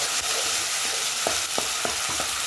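Boiled white peas for Mumbai street-style ragda are stirred in a hot pan, with a constant sizzle and several close, regular spoon scrapes and clunks.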